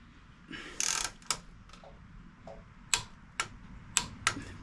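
Crisp ratcheting clicks of a torque wrench tightening the front axle pinch bolt on a 2007 Yamaha V-Star 1100 motorcycle, set to 14 foot-pounds, with uneven bursts of close, sharp ticks and short pauses between strokes.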